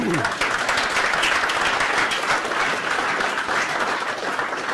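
An audience gives a round of applause welcoming a speaker at an agile leadership talk, a sustained wash of many hands clapping at a steady level throughout.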